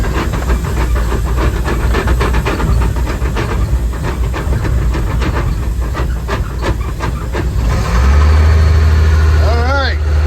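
A ten-wheeler steam locomotive hisses loudly and steadily with irregular chuffing and mechanical clatter, then a deeper engine drone swells near the end; a person speaks over it.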